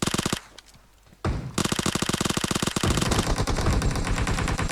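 Rapid automatic gunfire exchanged between players in PUBG Mobile, loud and close, with dense rattling bursts, a brief lull, then sustained volleys continuing to the end.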